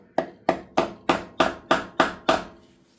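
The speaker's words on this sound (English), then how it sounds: "Gonna gently start tapping that in. Give it a little love taps." Steel hammer tapping a key into the keyway of a Wizard mower shaft: eight crisp, evenly spaced metallic taps about a third of a second apart, close and moderately loud, with no talking.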